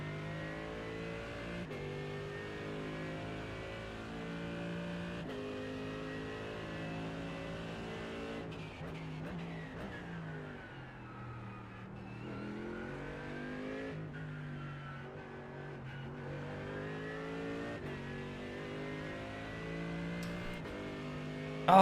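An AMG GT3 race car engine drones steadily in iRacing, with a continuous harmonic whine that dips and rises as the car brakes and accelerates through a race lap, heard without talk.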